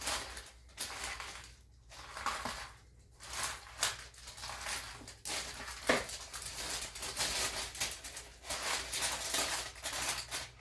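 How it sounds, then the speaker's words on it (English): Rice crispy cereal bar mixture pressed down into a pan, faint sticky crunching and crinkling in repeated uneven pushes, close and quiet, with no talking. "All you're going to want to do is press it down into your pan."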